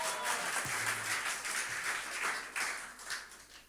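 Congregation clapping in appreciation of the media team during a Tuesday church worship service, a steady wash of applause from many hands that carries on throughout with no voices over it.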